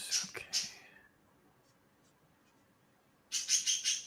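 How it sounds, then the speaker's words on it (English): A pet bird calls indoors with quick, high chirping notes, one cluster at the start and another burst near the end, close but fairly soft, with a quiet pause between them. "Is your bird getting horny again?"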